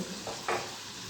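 Pua pitha batter dropped into hot oil, a brief soft sizzle and bubbling hiss close by, fairly quiet.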